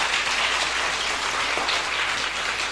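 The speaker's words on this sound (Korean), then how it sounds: "큰 박수 한번 해주시기 바랍니다" A church congregation at a Sunday morning worship service gives a big round of applause, an even, continuous wash of many hands clapping that holds at full strength with no speech over it.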